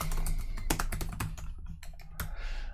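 AL code is typed for Business Central on a computer keyboard in a dense, fast clatter of keystrokes that thins into a few scattered taps, heard up close with no talking.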